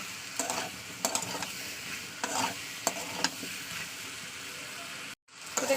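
Prawns and taro being stir-fried in a curry in a pan, with a steady close sizzle broken by repeated scraping strokes of a spoon and a brief cut near the end; no talking.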